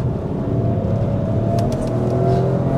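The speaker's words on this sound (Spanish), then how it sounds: "pero escuchas más al neumático" Opel Grandland 2023 130 CV car interior while driving, a steady loud road and tyre roar with low rumble, continuous with no breaks and no talking.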